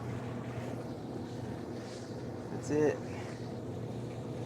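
A Whirlpool dryer drum, just repaired after a shredded belt, spins with a steady low rumble and whoosh heard up close, while a brief spoken remark rises over it.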